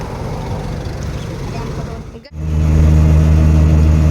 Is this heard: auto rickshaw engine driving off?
yes